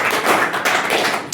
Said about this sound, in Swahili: mpatie makofi mzuri